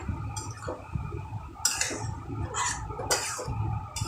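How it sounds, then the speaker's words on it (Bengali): Dried peas are tipped into a kadai with spices for ghugni. They land in a few quick rattling, clattering bursts against the pan, with no talking. "মটরটা দেখুন পুরোটা আমি দিয়ে দিলাম কড়াইয়ের মধ্যে।"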